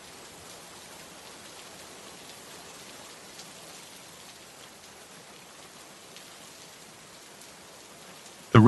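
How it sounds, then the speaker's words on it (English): Steady rain falls in an even, continuous hiss with no breaks, soft and uniform from start to finish. "the steady rhythm of falling rain"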